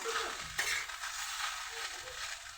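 Okra sizzling and frying in a small amount of oil in a pan, a steady close crackle with stirring scrapes throughout and no talk.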